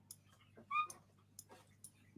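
A dog whimpers softly, a short high whine standing out amid faint snuffles and low background hum, quiet and close.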